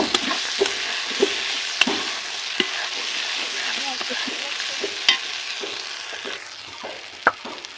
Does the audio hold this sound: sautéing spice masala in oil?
yes